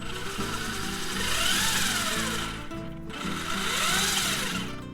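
Traxxas RC car with a newly installed motor mount runs on a test run, its motor giving a steady, loud, close whirring buzz that swells and dips slightly in pitch, with no talking.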